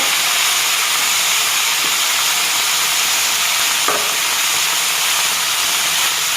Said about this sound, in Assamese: দাইলখিনি দিও অকণমান এনেকৈ ভাজি লৈছোঁ।